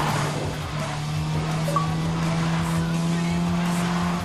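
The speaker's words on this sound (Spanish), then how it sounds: "Veo un carro acercándose." Car closing in during a race in the video game Need for Speed Most Wanted, a steady engine drone with a sustained low tonal hum and faint tire noise, while a voice talks lightly over it.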